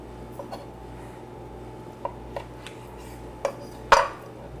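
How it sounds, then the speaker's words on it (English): A kitchen knife slicing strawberries in half on a cutting board, giving a few sparse, quiet clicks and taps, ending in one sharper knock near the close, with no talking. "Let's slice these in half."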